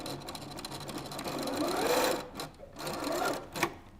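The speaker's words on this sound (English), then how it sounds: "I'm gonna go to my sewing machine and I'm just gonna sew that down" A sewing machine stitches down elastic on a classroom book bag, whirring steadily for a few seconds with brief pauses and restarts near the end, close and moderately loud.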